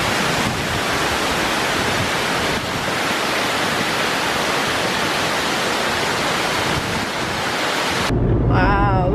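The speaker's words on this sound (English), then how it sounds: "This is the Okana no Taki waterfall, and it's ranked in the top 100 waterfalls in Japan." Okana no Taki waterfall in a forest on Yakushima, Japan: a loud, unbroken roar of falling water filling the whole stretch, close and steady, with a brief change in sound at the very end.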